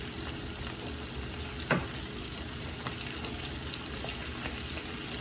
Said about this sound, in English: So I'm just going to give them a quick little stir, just so they don't stick to the bottom